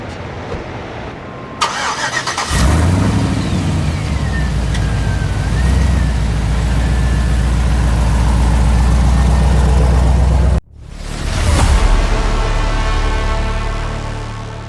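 A car engine cranks and catches, then settles into a loud, steady run that drops out briefly before restarting and revving again, close and without talk.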